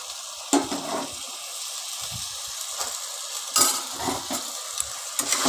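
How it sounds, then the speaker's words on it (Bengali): Peas sautéing with spices for ghugni in a pan, a continuous close sizzle broken by repeated scraping stirs and utensil knocks against the pot. "এর মধ্যে মটরগুলো দিয়ে খানিকক্ষণ কষিয়ে নেব"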